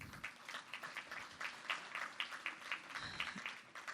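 Faint, distant audience applause for elected city and county officials at a morning business chamber event, a loose patter of individual claps in a room, with no talking.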